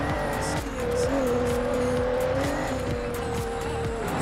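A car driven in the racing video game Forza Horizon 2 at dusk holds a steady engine drone that rises and falls slightly, with a faint tire hiss and a continuous rhythmic backing underneath.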